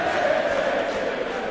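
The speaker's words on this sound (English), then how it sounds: "Well, the crowd are now supporting Adrian." Darts crowd at the PDC World Matchplay cheering and chanting in support of Adrian Lewis, a steady, dense roar of many voices filling the hall.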